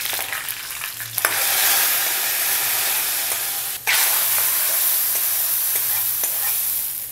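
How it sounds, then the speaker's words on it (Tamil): Hot oil tempering with fenugreek and curry leaves is poured into a Kerala-style prawn and drumstick curry, setting off a loud, sustained close-up sizzle and hiss with a sharp crackle partway through. "இதை எடுத்து அப்படியே நம்ம அந்த குழம்புல ஊற்றலாம்."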